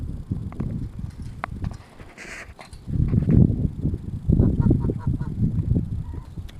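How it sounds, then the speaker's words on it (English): Geese and ducks honk during a Wisconsin winter blizzard, with chickens also in the flock; repeated close honks and calls rise over a steady rushing wind, louder in the second half. "you guys that are worried about your geese and ducks in the winter"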